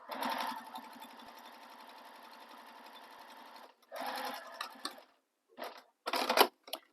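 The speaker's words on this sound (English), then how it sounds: "I'm just going to pivot and sew across this, just so I don't have to break stitches" A sewing machine top stitching fabric for a stocking, a fast mechanical whirring run of stitches for several seconds, then a pause and shorter bursts as it pivots and sews across, close and alone.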